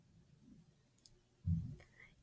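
A computer mouse clicking once or twice on a Drive icon, with two faint, sharp clicks close together near the middle, alone in a quiet room before a low thump.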